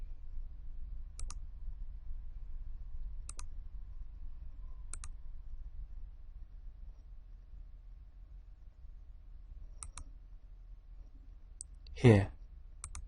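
Computer mouse clicking in a quiet room, a handful of sharp isolated clicks spaced several seconds apart over faint background hiss, ending with one brief louder swipe.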